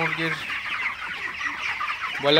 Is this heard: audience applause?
no